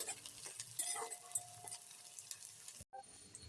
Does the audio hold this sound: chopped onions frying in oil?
yes